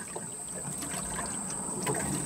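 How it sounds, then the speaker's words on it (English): Pool water flows into an above-ground pool pump through a newly opened ball valve, a soft, continuous trickling and gurgling close by over a steady high-pitched whine. "prime the pump by opening up this ball valve. And you can see the water starting to come in."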